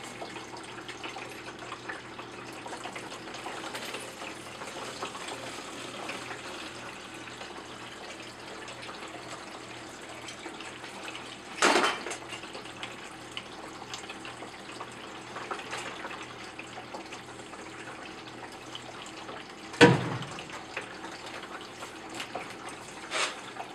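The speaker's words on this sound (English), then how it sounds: "We're gonna pour it back into the container" Mixed C-41 colour film developer poured back into its container, a steady low liquid trickle with two brief louder splashes, moderately close with no talk.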